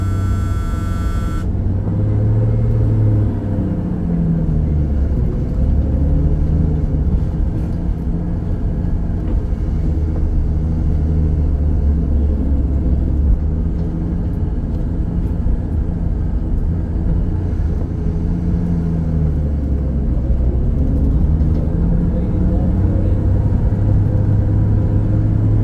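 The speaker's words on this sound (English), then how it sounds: "Let's take her on a nice little jaunt up to the stop sign here and back." A Ford Bronco's engine rumbles steadily through a short test drive up to a stop sign and back, a continuous loud low drone with slight shifts in pitch as the truck moves.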